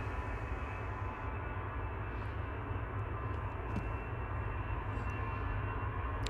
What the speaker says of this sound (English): Flight 949, A319 off to Frankfurt.